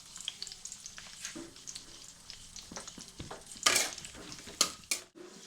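Cashews and whole garam masala fry in oil with a crackling sizzle, broken by irregular stirring scrapes and several sharp clatters of a utensil against the pan.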